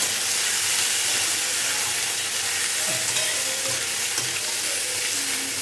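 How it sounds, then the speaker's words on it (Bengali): Vegetables sizzle in hot oil with cardamom, cloves and cinnamon, giving a continuous close frying hiss with faint stirring scrapes throughout and no voices. "এটাকে ভাজা ভাজা করে নেব"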